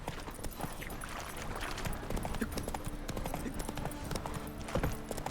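A horse's hooves clip-clop in a steady trot in the video game The Witcher 3, set under a dense layer of background game sound.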